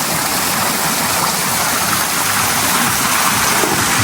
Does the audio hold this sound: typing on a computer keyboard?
no